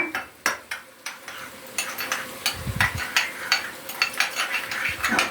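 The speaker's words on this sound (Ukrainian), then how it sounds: "Вимішаємо пасту з цукром" A spoon scrapes and clinks against a bowl in quick irregular strokes, stirring paste with sugar; steady mixing with soft taps and a low bump partway through.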